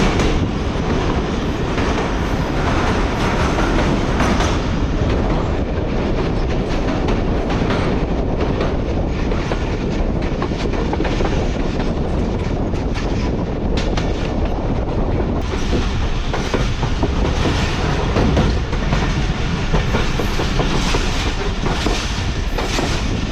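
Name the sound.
train ride behind the locomotive, Lahore to Faisalabad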